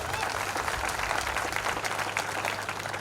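Sustained, dense applause from an audience at a motivational speech during a 2024 orientation programme, many hands clapping steadily for about three seconds with no talking over it.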